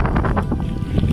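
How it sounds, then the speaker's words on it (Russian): Strong wind buffets the microphone on a ship along the Norwegian coast near Bodø, producing loud, low rumbling gusts that roar continuously through the short stretch. "Ветер, конечно, адский."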